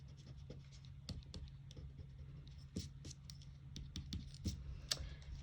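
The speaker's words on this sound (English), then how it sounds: "And then I'm going to go ahead and erase my excess." Pencil lines being erased on paper: quiet, irregular scratchy rubbing strokes in short bursts, close and soft, with brief pauses between strokes.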